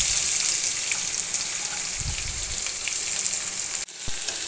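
Onion goes into hot oil already crackling with mustard seeds and finely chopped curry leaves for ragi upma, a loud, even sizzle with a few low thumps and a brief dip near the end, with no talk.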